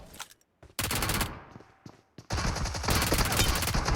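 Gunfire in the mobile battle royale game PUBG Mobile, scattered single shots followed by long bursts of rapid automatic fire, loud and close.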